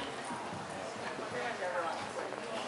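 Horse hooves pound the arena dirt during a barrel-racing run, a faint rhythmic clip-clop in the distance beneath people talking.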